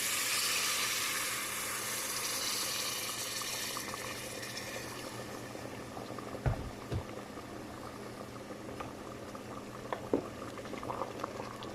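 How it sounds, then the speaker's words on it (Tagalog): Hot water poured into a cooking pot of chicken bubbles and hisses, a steady simmering wash with a few faint clinks near the end. "lagyan natin ng mainit na tubig"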